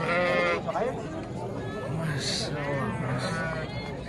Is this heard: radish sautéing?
no